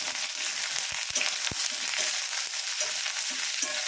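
Ridge gourd pieces fry in a pan with a continuous close sizzle and hiss, broken by a few brief clatters of stirring, and nobody talks.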